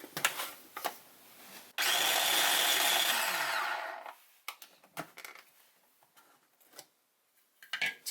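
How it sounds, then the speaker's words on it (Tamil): A kitchen mixer grinder runs loud and close for about two seconds, whirring as it blends onion chutney with a little water in a mixie jar, then stops, leaving faint clattering sounds. "இதை ஒரு மிக்சி ஜார்ல டிரான்ஸ்ஃபர் பண்ணி நல்லா அரைச்சிடலாம்."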